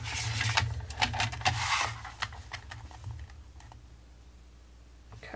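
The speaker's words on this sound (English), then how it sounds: "paper trimmer works just fine for this" A paper trimmer slices paper in a craft setting: a series of short, close scraping and clicking cuts, busiest early, then tapering to a quiet finish.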